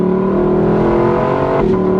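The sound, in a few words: Lexus LC 500 convertible exhaust while accelerating, top open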